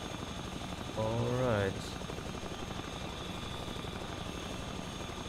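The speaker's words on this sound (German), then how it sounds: "da unten ist ein Heli" Helicopter in the survival game The Front, a steady distant rotor drone running under the whole stretch, with someone briefly talking over it near the start.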